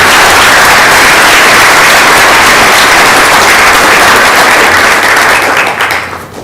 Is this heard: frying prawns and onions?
no